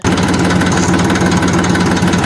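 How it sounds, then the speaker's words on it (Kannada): A farm tractor carrying fertilizer to a paddy field, its engine running loud and close with a steady, throbbing diesel chug and vibration throughout. "ಟ್ರ್ಯಾಕ್ಟರ್ ತಗೊಂಡ್ ಗದ್ದೆ ಕಡೆ ಹೊರಟೆ"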